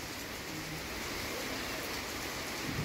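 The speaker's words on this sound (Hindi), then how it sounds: "लेकिन बारिश आ रही है।" Steady rain falls outdoors during a mix of rain and sunshine, a dense continuous hiss of drops that holds evenly at moderate loudness throughout, with no voices.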